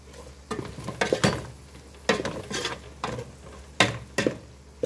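Chicken thighs and kolokasi (taro) stirred in a pan, a series of scraping stirs against a faint background sizzle, each stroke close and distinct in a steady rhythm with short pauses, no talking.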